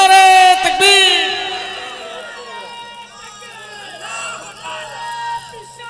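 A crowd at a religious gathering answers the call of takbeer with a loud, chanted group shout that fades into a murmur of voices and scattered calls.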